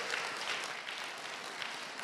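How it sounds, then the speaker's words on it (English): A church congregation applauds the worship team during an Easter service, a steady wash of clapping from many hands held for about two seconds with no voices over it. "Let's give them a quick round of applause."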